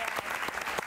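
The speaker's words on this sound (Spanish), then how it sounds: "Un aplauso para ella, por favor." Studio audience applause for a pop singer being welcomed onto a Spanish-language TV talk show, a dense, steady burst of clapping with a few louder peaks, close and filling the short moment without talk.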